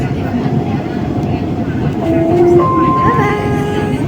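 A metro train runs between stations with a loud, continuous rolling rumble, and a rising whine of tones comes in partway through as it travels. A voice speaks over the noise.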